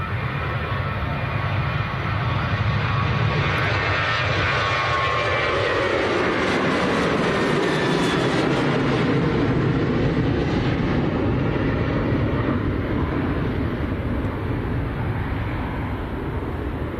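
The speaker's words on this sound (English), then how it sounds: "You might notice on the other runway in a second, a Swiss has just landed." A Swiss airliner in from Zurich touches down on a runway at Manchester Airport, its engines a steady broad roar throughout that swells and then eases off, heard from a distance on the airfield.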